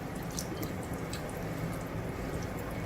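Diluted milk, a half mug of water mixed with about a tablespoon of boiled milk, is poured into soya chunk gravy, making a steady close liquid splashing and trickling sound throughout with no talking.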